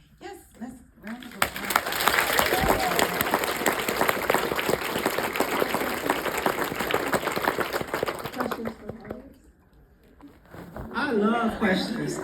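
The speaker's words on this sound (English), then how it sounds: "let's round of applause" Audience applause at a fashion interview event, a long, loud, steady wash of clapping that rises after a brief quiet start, holds for several seconds, then fades as someone starts speaking again.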